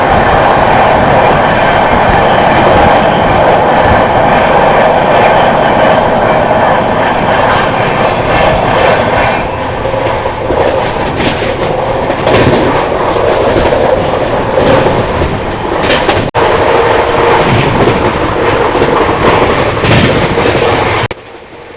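A Rajdhani Express runs at speed and overtakes the Nizamuddin–Hubli superfast, heard from on board with a loud, continuous rumble and clickety-clack of the wheels until an abrupt drop at the end; no one talks.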